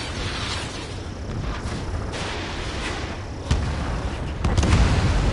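Naval ships fire a supporting missile volley in the Ace Combat 7 combat game, heard as a steady rumbling barrage of dull booms and thuds, with sharper blasts near the end.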